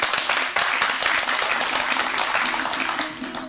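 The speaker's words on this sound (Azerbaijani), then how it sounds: "Alqışlarınızla təqdim edirəm." An audience at an ashiq deyişmə folk-poetry contest applauds a jury member being introduced. The clapping is brisk, continuous and fairly close, with a faint tonal hum beneath it.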